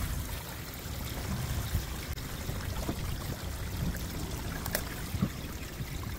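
Water pours and trickles steadily through a clogged RV black tank sewer line, a continuous close rushing flow with occasional gurgles, and no voices.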